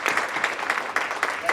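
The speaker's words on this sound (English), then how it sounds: "Let's give Duplicating Services a round of applause for the program." An audience applauds at a Phi Theta Kappa honor society induction ceremony at Hostos Community College, with a steady, dense patter of clapping from a crowd in a hall and no voices.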